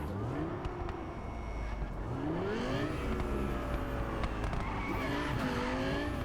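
A car in Cyberpunk 2077 drives hard with its engine revving and tires squealing and skidding through turns, a loud continuous roar with rising and falling pitch sweeps.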